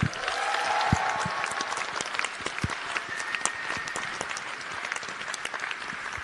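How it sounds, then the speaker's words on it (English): Applause greeting Charlize Theron, Academy Award-winning actress and UN Messenger of Peace, at a youth HIV event: a broad crowd clapping steadily, with a few sharp nearby claps standing out against the continuous wash. "A big round of applause"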